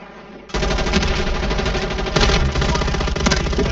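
Rapid automatic gunfire in Warzone 3, a loud continuous rattling burst that kicks in sharply after a moment of quieter game noise, with a few extra bursts layered on top and no talk.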